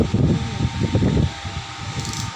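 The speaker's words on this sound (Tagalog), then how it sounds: "Lakas ng ng electric fan guys." An electric fan runs steadily at a market stall, giving a continuous broad whooshing drone with some low rumbling fluctuation and no speech.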